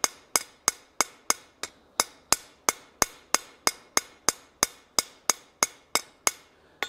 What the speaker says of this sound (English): now we're going to go ahead and hammer around this and get this joint